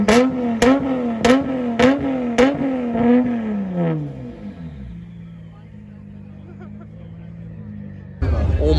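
A car revs repeatedly at a cars and coffee meet, several sharp throttle blips with a rising and falling engine note and exhaust pops, then settles to a rumbling idle; people talk nearby.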